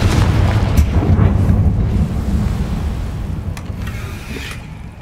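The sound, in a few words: Confringo fire spell explosion from a video game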